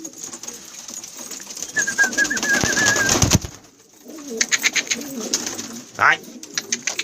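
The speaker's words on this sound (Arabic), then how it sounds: "شباب 25 طير بالعدد، حمامات كلهم حلوين وقبضايات." Pigeons cooing in a loft of about twenty-five birds, soft repeated coos under a voice calling out, with birdy chirps and rustling close by.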